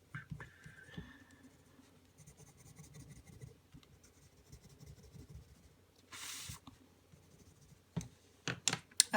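Soft, steady scratching of a coloured pencil blending on paper in short back-and-forth strokes, close up, with a few sharper clicks and rustles near the end.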